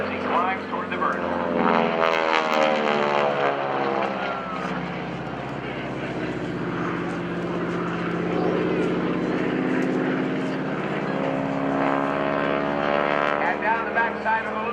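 A propeller aerobatic plane climbs toward the vertical into a loop at the NAS Oceana airshow, its engine droning loudly and shifting in pitch throughout, with a commentator talking over it.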